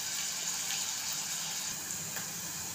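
Water poured from a tap or vessel into a pan of bottle gourd curry, a steady close gushing pour that runs without pause, with no talk.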